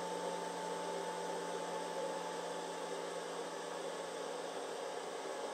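Small cooling fan inside a TWING/MAXPART 1000 watt pure sine wave power inverter runs with a steady, even whir and faint hum, quiet and constant with no talk.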